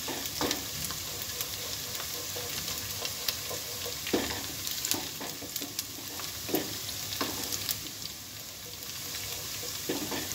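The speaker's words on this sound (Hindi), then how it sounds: "प्याज भी ब्राउन हो रही है।" Onions fry in a pan until brown while palak gosht is being cooked, giving a continuous close sizzle with occasional stirring scrapes and spatters, alone without talking.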